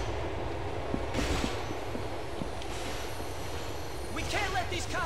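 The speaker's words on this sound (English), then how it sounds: "Watch out you don't get run over by the subway." Subway train rumbling past in Grand Theft Auto 4, a steady low mechanical roar with faint rail clatter and brief squeals near the end, mixed with game noise.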